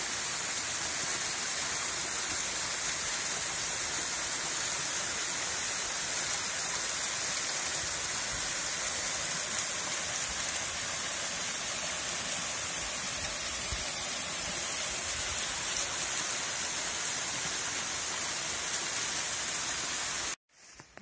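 Steady broadband rush of a waterfall at Orlov Kamen, heard from below in a forest, continuous and fairly loud with no voices, cutting off abruptly at the very end.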